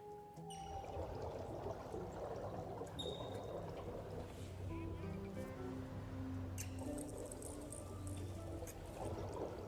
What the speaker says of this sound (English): Water is flowing into the city.